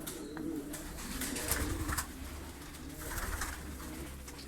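A flock of large balina pigeons, including breeding birds with eggs and squabs, coos in a Karacabey, Bursa loft, a dense low continuous cooing close by, dotted with light scuffling and faint chirps.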